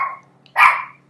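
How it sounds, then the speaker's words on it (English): A dog gives a single sharp bark indoors, loud and close, after a brief trailing vocal sound. "Stella, be quiet. Dogs."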